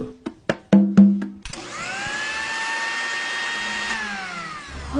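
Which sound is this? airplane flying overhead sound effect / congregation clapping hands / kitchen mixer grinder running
kitchen mixer grinder running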